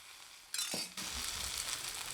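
Rava dosa batter poured onto a hot griddle, a sudden burst of sizzling and frying that continues steadily, close and moderately loud, with no voices.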